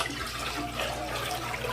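Boiled and cooled water poured into a container of dongchimi, Korean radish water kimchi, a steady close splashing stream that continues for the whole stretch without any talk.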